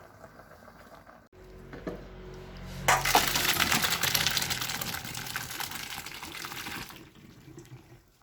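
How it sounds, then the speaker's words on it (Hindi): A gush of hot water drained from boiled macaroni pours out and splashes into a sink for a few seconds, preceded by light clatter and fading to quiet drips. "अब पानी को ड्रेन कर लेंगे।"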